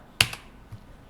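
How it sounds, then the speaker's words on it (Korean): A single sharp key click, crisp and close, followed by a faint softer tap in an otherwise quiet room. "키보드 엔터를 누르면"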